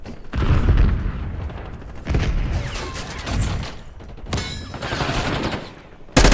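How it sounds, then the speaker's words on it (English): A frag grenade thrown and exploding in Call of Duty: Black Ops 6, heard as heavy booming bursts and crackling gunfire in loud, repeated waves, close and dense, with no voices over it. "Throwing frag."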